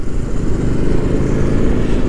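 Honda Africa Twin motorcycle engine running on a busy exhaust-filled street in Dakar, a loud, close, steady low rumble and putter throughout.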